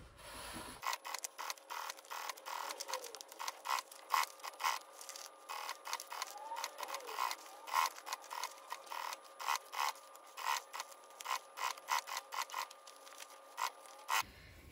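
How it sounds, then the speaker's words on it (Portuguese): A sewing machine stitches children's backpack fabric with a half-centimetre seam allowance, running in short repeated bursts with brief pauses between them, close and fairly quiet. "E agora, nós vamos costurar com margem de meio centímetro."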